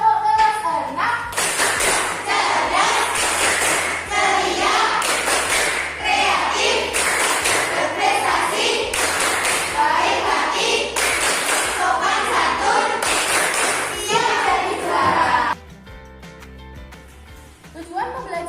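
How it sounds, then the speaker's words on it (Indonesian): A sixth-grade class performs a rhythmic clapping chant, a loud sequence of patterned group claps and thumps mixed with children's chanting voices in a classroom, ending abruptly into quieter room sound. "kita akan tepuk kelas 6 dulu ya. Tepuk kelas 6."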